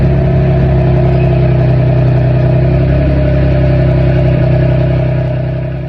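A 2021 Ford Bronco's 2.7-liter turbocharged V6 rumbles steadily at idle, a deep, loud, continuous throb close by that fades slightly at the end.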